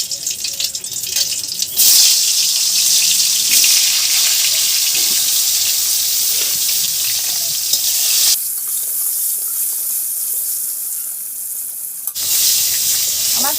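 Pointed gourd pieces fry in hot mustard oil in a kadai, a loud, close, steady sizzle with occasional scraping stirs and a brief drop in intensity partway through.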